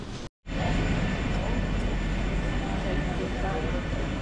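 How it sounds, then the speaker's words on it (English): Steady, loud Ryanair jet airliner engine roar, a constant broadband rush that drops out briefly near the start and then holds without voices. "There's our plane, and then you can see"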